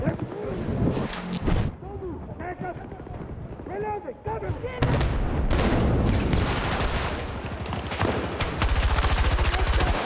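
Video game gunfire and explosive bursts in repeated loud, dense volleys through most of the stretch, with excited player voices talking over the shooting.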